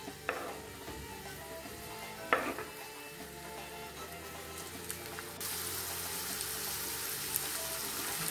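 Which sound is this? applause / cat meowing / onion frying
onion frying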